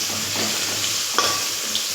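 Salted potato pieces fry in a pan at home, giving a steady close sizzle with a light scrape or clink as they are stirred, and no talking.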